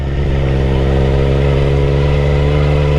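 A Triumph Street Triple RS motorcycle engine hums steadily while the bike is ridden back from Bear Mountain, a loud, close, constant drone with no talking.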